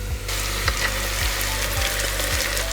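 Mutton pieces hit a pan of golden brown onions and sizzle loudly and continuously up close, with a faint regular stirring thump repeating about every half second.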